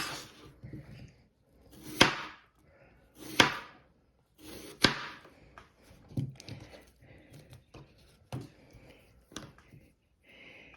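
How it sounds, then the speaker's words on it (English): A knife slices an onion into thin slivers on a cutting board, close and crisp, with a string of irregular chopping taps that thin out into lighter, quicker cuts. "Then you take an onion. You're going to cut it into slivers."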